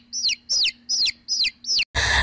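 A newly hatched eagle chick gives five loud, evenly spaced downward-sweeping chirps, each rising and falling sharply, close and alone, followed by a short burst of broadband noise at the end.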